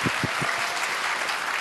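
Brief audience applause on a Japanese television magic show before a telepathy trick, a dense burst of clapping with a few loud, close claps at the start.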